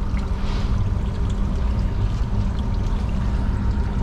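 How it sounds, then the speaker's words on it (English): Water pouring from a leaking York fan coil unit, a steady rushing splash heard close up, continuous and fairly loud, with no talk. "it's just pouring from a different spot."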